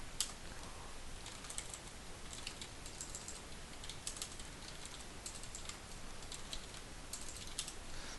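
Quiet, rapid clicking of a computer keyboard while playing Wizard101, continuous and faint with bursts of keystrokes, with no talking.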